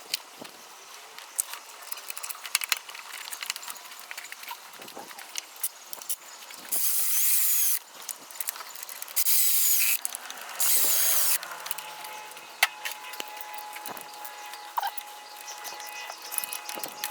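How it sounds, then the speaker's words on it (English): Bolts being fastened as an alternator goes onto a 2008 Honda Element, with a few loud bursts of power-tool whirring between quieter ratchet clicks and metallic handling noises, close by and without talk. "Okay, bolting on my alternator."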